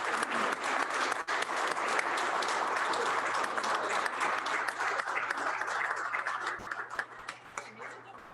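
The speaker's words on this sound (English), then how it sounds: "would you all stand and let's give her a round of applause" A seated crowd at a Rotary club meeting applauds to welcome a new member: dense, steady clapping from many hands fills the room without a break, thinning slightly only in the last second.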